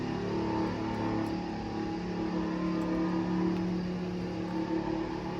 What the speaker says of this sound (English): Oh yeah, you can hear a vehicle going by.